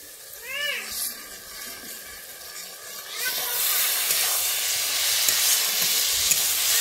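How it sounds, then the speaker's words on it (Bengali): Potatoes are stir-fried in a pan for a ridge gourd, potato and onion curry, with a loud steady sizzle building after a cat meows a few times nearby. "আলুটাকে দিয়ে এবারে আমি ভালোভাবে কষিয়ে নিচ্ছি"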